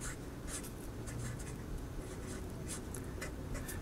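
Pen or marker scratching out a math equation by hand, a run of quick, faint strokes and taps in a quiet room.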